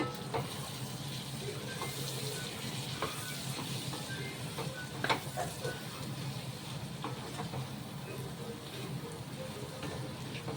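Chili powder stirred into goat lungs frying in oil, a continuous soft sizzle with scattered scraping stirs, close and quiet with no talking.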